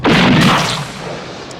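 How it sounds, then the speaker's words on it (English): A single loud, close gunshot from a film scene in which a man is shot in the chest with real bullets, a sharp blast that rings out and fades over about a second. "shot Shelton in the chest with real bullets"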